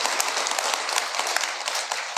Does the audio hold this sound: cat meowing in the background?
no